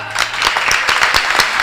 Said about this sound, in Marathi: आणि या टाळ्या कीर्तनासाठी नाही आहेत